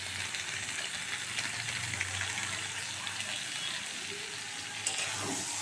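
Cabbage cooked with fish head, sugar and garam masala sizzles and hisses steadily in a pan while being stirred, a close, continuous frying sound with no talking.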